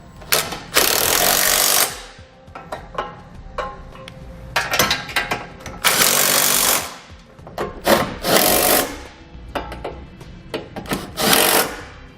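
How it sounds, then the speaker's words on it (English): Hitch hardware nuts on a 2019 Subaru Outback wagon are run down with a 14mm socket on a power tool, giving repeated loud buzzing bursts of one to two seconds with short ratcheting pauses between them. "We'll then tighten down all of our hardware with a 14mm socket."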